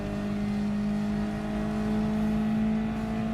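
A race car in a racing game holds a steady, sustained engine whine as it climbs uphill, the tone constant and smooth with no gear changes or other sounds over it.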